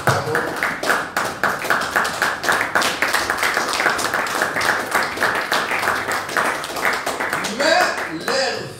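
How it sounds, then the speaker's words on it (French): A church congregation at a Sunday service claps in a fast, uneven rhythm, close and continuous throughout, with a few voices rising near the end. "Acclamons pour cette parole."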